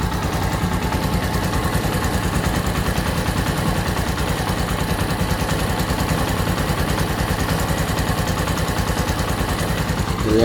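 Close, steady idle from a Keeway CR152 motorcycle engine with its stock muffler, an even low chugging pulse holding at one level from start to finish with no talking.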